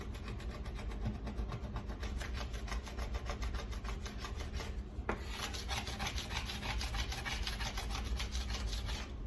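Steady, gritty scrubbing on a glass stovetop works at a stubborn stain, in a fast, even back-and-forth rhythm with a crunchy, rasping texture. The sound is close and continuous, with one brief knock midway and no talk.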